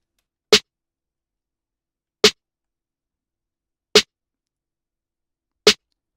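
Four crisp, dry lo-fi snare drum sample hits for a dark trap beat in FL Studio, spaced evenly apart with silence between, slightly gritty in tone.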